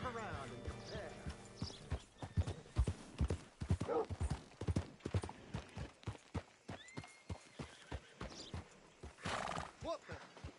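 Hooves clip-clop in a quick, steady walking rhythm, joined by a neigh and the snorts of a horse in Red Dead Redemption 2, with voices speaking alongside.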